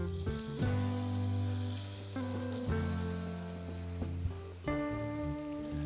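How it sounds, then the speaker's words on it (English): A chuck roast sears in hot oil in a pan, a steady dense sizzle running throughout alongside sustained tonal hums, loud and close with no talk. "we're going to go ahead and sear this chuck roast on all sides"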